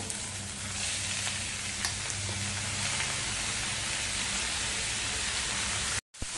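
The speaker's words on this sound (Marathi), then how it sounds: "फोडणीवरती आपल्याला छान 2 मिनिटं चांगला परतवून घ्यायचा आहे." Steady close sizzling of grated bottle gourd sautéing in hot oil tempering, a dense continuous crackle that stays even throughout, cut off briefly near the end.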